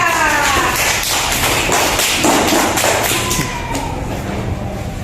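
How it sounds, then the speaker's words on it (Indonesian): Schoolchildren in a classroom clap their hands during a lesson, with a loud, busy patter of claps that holds steady throughout and a few brief voices rising over it. "Tepuk tangan dong buat Anggara."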